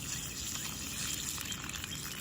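Water poured out from a Honda Fit during a car modification job, a soft continuous trickling gush heard fairly quietly and steadily throughout.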